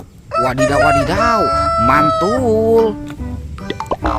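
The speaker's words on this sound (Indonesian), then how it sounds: "Yang ini ada ayam berkokok." A rooster crows loudly and close by with a long, rising-and-falling cock-a-doodle-doo, followed by shorter calls. A person talks excitedly over and after it.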